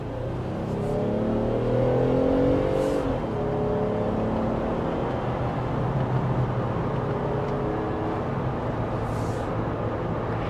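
A Jeep Wrangler Rubicon X revs up during a test drive, its engine note climbing over the first few seconds, then settling into a steady road and engine hum from inside the cabin.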